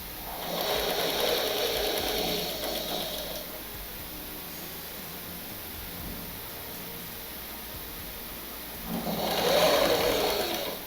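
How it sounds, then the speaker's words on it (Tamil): A sewing machine stitching a baby's panty runs in two short bursts of steady whirring, one at the start and one near the end, with a quieter hum between them. "கொஞ்சம் கொஞ்சமாக தச்சிட்டு வரணும்"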